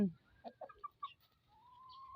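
Domestic chickens clucking in a short series of soft, separate calls at a Thai home, fairly quiet and close, followed by a thin sustained tone.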